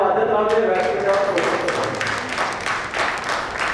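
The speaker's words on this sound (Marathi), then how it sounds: "जोरदार टाळ्यांनी स्वागत करूया" An audience claps to welcome a guest onto the stage at a housing society meeting in Chembur. The dense, steady applause swells after a brief opening and continues throughout, mixed with voices.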